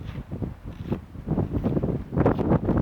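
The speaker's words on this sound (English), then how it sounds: "Man, we're going to have some wind." Gusty outdoor wind buffets the microphone in low rumbling bursts that swell and fade, loud and close, with no talk.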